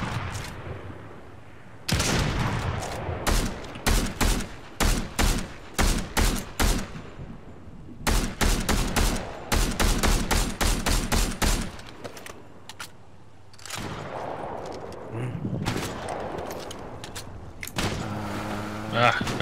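Sniper rifle and other weapon fire in the video game Fortnite: repeated sharp shots in clustered volleys with short gaps between them, mixed with other game sounds, and voices talking at times.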